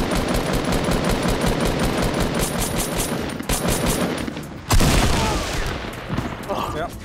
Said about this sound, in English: Enemy shooting our base with a turret.